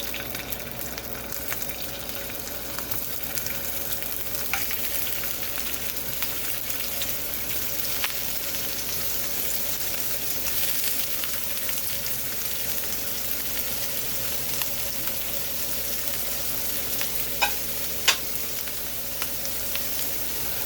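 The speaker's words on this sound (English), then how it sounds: "We got some hot oil in there. We're going to go ahead and drop the shrimp in." Shrimp frying in hot oil in a pan for shrimp fried rice, a dense, steady sizzle close by throughout with scattered sharp pops and crackles.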